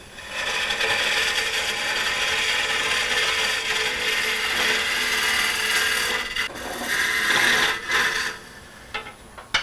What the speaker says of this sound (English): Find my lip, work on it, scrape across it